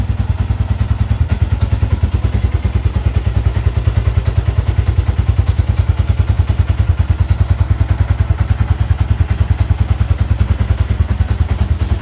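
A Yamaha Sniper 150 motorcycle engine runs steadily at idle for the whole stretch, close and loud, with a rapid even low putter and light mechanical clatter and no talk over it.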